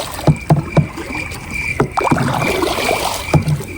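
Kayak paddles dip and splash on the water at Kavvayi Island near Payyanur, Kannur, in loud close strokes, first a quick run of three, then scattered strokes with water swirling between them.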